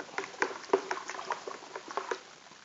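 A homemade eco-friendly pesticide mixture with two spoons of Sunlight dish soap sloshes and clinks in a container as it is stirred, with irregular small splashes and taps, close and fairly quiet.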